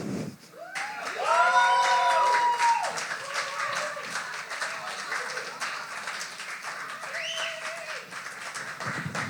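Audience applause for a poet at a poetry slam anniversary event, steady crowd clapping building quickly and holding, with scattered cheers and whoops rising above it.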